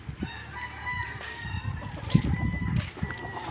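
A red chicken on a farm clucking and crowing close by, a busy run of fowl calls over a low rural background.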